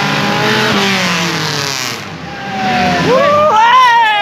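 A BMW E36 323i engine revs loudly, the pitch rising and falling through several gear-like sweeps, close by, with some voices underneath.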